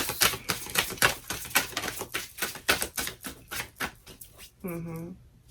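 Rapid crisp riffling and snapping of tarot cards being shuffled, a steady run of sharp close clicks, ending with a short voiced sound.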